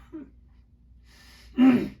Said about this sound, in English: Thanks for putting up with my coughing.